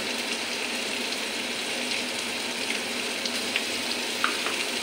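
Onion and spice paste with Kashmiri chilli, turmeric and salt frying in a pan, giving a dense, even sizzle close up with faint light crackles and no talking.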